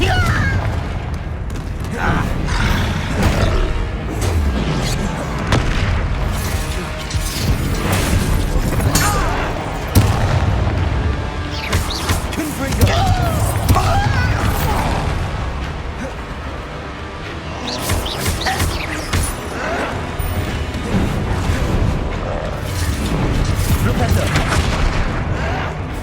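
Repeated booming blasts from the Confringo spell in the Hogwarts Legacy video game, a series of mid-level explosions spread through the scene with continuous rumbling game sound and shouted voices.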